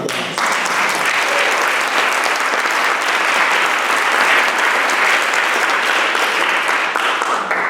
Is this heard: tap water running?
no